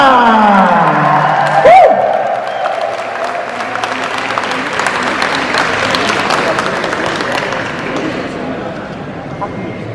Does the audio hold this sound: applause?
yes